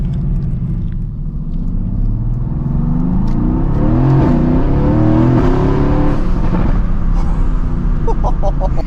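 A GTS car fitted with a custom exhaust and catted downpipe revs hard up close, a loud, sustained engine rumble with rising and falling pitch that fills the whole stretch.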